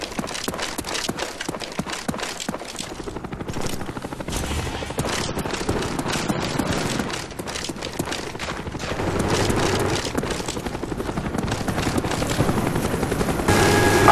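Cobra attack helicopter in a Call of Duty Black Ops match, its steady loud rotor chop running throughout with bursts of heavy gunfire mixed in.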